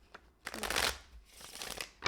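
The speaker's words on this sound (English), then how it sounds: "let's keep shuffling" Tarot cards being shuffled by hand, quiet riffling bursts that rise and fall over about two seconds, close and soft with no talking.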